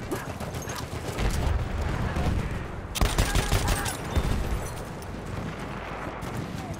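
Gunfire in the game Battlefield 1, rapid bursts of shots and a sharp crack amid battle noise, with a voice speaking over the action.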